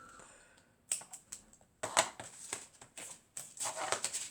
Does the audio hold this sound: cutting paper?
yes